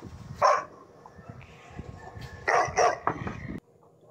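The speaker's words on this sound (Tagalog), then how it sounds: "Malaking aso dun mga kangkas." Several deep barks from a large dog, a pair then a quick cluster, somewhat distant against low background noise.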